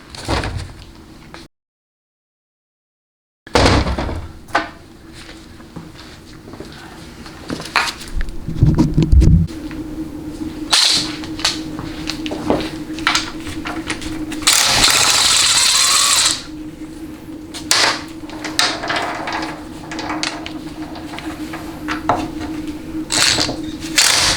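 Ratcheting wrench work loosening 9/16 bolts on a Chrysler A904 transmission extension housing, with repeated close metallic clicks, clanks and scrapes in irregular bursts, a short silent gap near the start and a sustained louder stretch midway.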